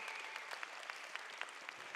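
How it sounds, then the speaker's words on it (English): Applause from a gala audience: a dense, even patter of many hands clapping steadily, moderately distant, with no voices over it. "Give those a round of applause, folks."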